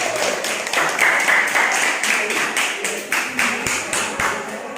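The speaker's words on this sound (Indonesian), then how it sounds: "tepuk tangan untuk kelompok 1" A room full of people claps steadily for several seconds, dense overlapping hand claps with a few sharper claps standing out near the end.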